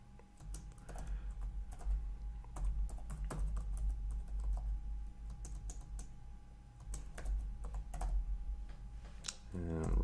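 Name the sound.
typing on computer keyboard editing hosts file in nano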